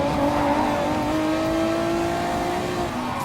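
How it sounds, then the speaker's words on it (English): A mid-engine Super GT 2008 race car in Gran Turismo Sport: a loud, steady engine drone that holds a high, even pitch and rises slightly, heard close and continuous with no talk. "So looks like this is going to be a perfect car, that this is going to be a better mid-engine race car."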